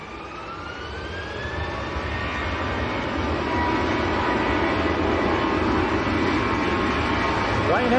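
A Ryanair passenger jet at Manchester Airport gives a loud, steady jet engine roar that builds and holds, with whining tones drifting over the broadband rumble.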